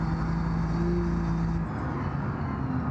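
A car engine drones steadily in the BeamNG.drive driving game, a loud continuous hum with a tonal whine that shifts pitch midway as the car is driven along.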